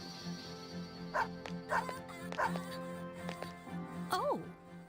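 A dog in the video game Persona 3 FES barks in a few short, evenly spaced yaps followed by a whimpering whine, heard over steady background game music with a person talking.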